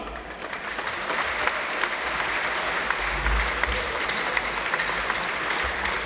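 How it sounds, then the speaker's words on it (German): A crowd at a football club's season-opening training event gives sustained, fairly distant applause for the team, steady and even, with faint low rumble beneath and no talking. "wir sollten ihnen nochmal einen fetten Applaus spendieren"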